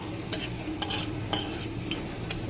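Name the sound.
bay leaf, cinnamon and cloves frying in oil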